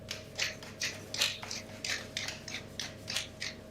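Pepper grinder grinding over a hot pot of game stew: a quiet, steady run of about nine short rasping crunches, evenly spaced, close by and alone.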